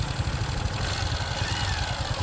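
A motorcycle engine idles close by with a rapid, uneven low putter and rattle, steady and fairly loud throughout, with no speech over it.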